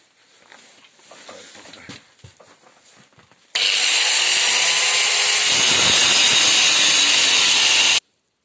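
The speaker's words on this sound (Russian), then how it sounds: "Ну, есть болгарка, поэтому" Scattered metallic clanks at a forge give way to an angle grinder cutting steel for the tang of a forged Yakut blade, a loud, sustained high whine that runs for several seconds and then stops abruptly.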